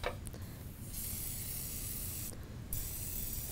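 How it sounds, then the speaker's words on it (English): A kitchen spritzer sprays canola oil onto a pan as a steady fine hiss, with two sustained mist bursts separated by a short pause, close and fairly quiet. "And then we're going to go ahead and just spray our pan."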